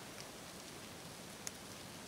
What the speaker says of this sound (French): Comme il pleut, je me cale dans la grotte peinard